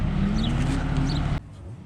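Drift car engine roaring steadily at high revs on a drift track in Ljubljana, loud and close, then cutting abruptly to a quieter idle near the end.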